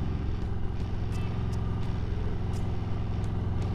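Loud, deep, continuous exhaust rumble from an M8 motorcycle fitted with Vance & Hines pipes, a steady pulsing drone close by on a ride, with faint clicks on top.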